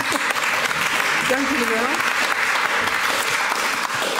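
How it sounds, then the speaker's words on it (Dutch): An audience at a talk on sharing data for a healthier city breaks into applause, a continuous, fairly loud wash of clapping lasting several seconds while a voice briefly speaks over it. "Mag ik dan een heel groot applaus voor deze twee blije eikels?"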